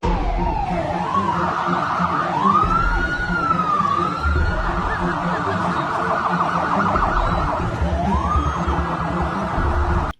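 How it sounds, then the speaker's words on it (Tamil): An ambulance siren wails in rising and falling sweeps as it moves through a dense political rally crowd, loud and close above the constant crowd murmur. "டிவிகே கட்சி கூட்டத்துக்கு நடுவே வருகின்ற ஆம்புலன்ஸ் தான் அது"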